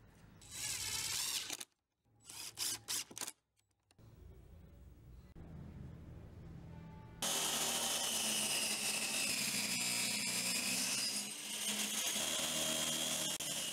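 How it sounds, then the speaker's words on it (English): A power saw cuts a groove in wood for a dog house roof, starting with short choppy bursts separated by silent gaps, then settling into a sustained, loud, harsh cutting roar. "First I cut the groove and then set 5-degree cut for the angle of the roofing."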